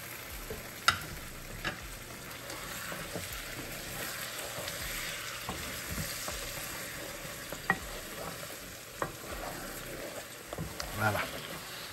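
A spoon stirs goat meat in sauce in a pot on the stove, with a steady low sizzle and repeated scraping knocks against the pot. Voices sound faintly in the background.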